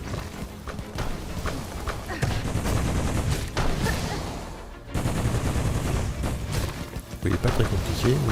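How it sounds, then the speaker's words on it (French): Bursts of explosions in the video game Hollow Knight: Silksong ring out repeatedly over dense game music and effects, loud and close, with a brief drop near the middle before the blasts resume. "que les explosions, mine de rien, elles peuvent faire mal."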